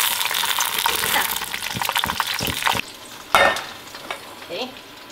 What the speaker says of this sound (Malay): Ini goreng sawi, goreng kentang,